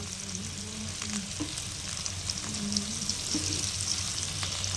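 Dried stingray and anchovy fish frying in a pan over medium heat, a soft steady sizzle with occasional light scraping of a spatula as pieces are turned, fairly quiet and without talk.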